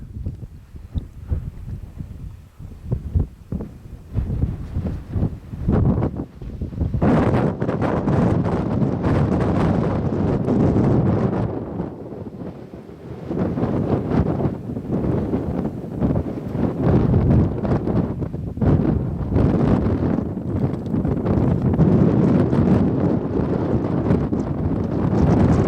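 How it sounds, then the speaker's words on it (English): Strong wind on a mountain summit in Arizona's Superstition Wilderness buffets the microphone in loud, roaring gusts, with a brief lull early on before the rumbling blasts return and continue almost without pause. "It's crazy how calm it was earlier and how windy it got up here."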